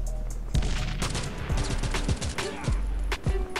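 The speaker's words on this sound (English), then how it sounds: "where are they shooting me from?" Gunfire in the online shooter Modern Strike Online: a steady mix of rapid bursts and single cracks, close and loud, with some low booms under the shots.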